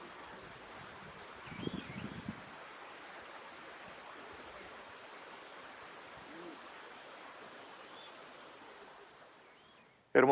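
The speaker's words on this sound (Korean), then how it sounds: "바람 소리밖에 안 들립니다." Wind blowing across the open, empty Judean desert as a steady, soft rushing hiss that carries on for several seconds. A brief low rumble comes early, and a sharp louder burst cuts in at the very end.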